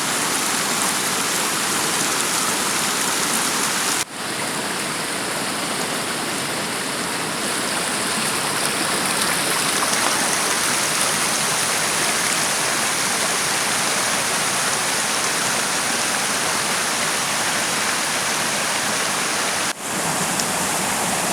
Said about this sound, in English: It's been torrential downpouring since, I don't know, 24 hours ago.